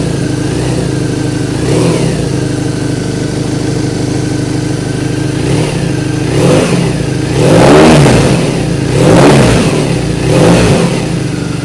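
A 2022 BMW R nineT Option 719 motorcycle fitted with a Werkes exhaust sits idling, then gets several sharp throttle blips that rise and fall, loud and close, with no talking.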